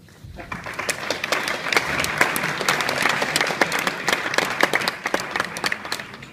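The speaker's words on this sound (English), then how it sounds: "I think we should give this an applause." An audience at a tech conference bursts into applause, steady dense clapping that holds for several seconds at full strength before tapering slightly at the end.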